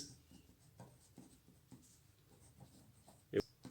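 Pen writing out a Class 12 maths equation by hand, faint scratchy strokes in short bursts, close and quiet, with a brief louder tap near the end.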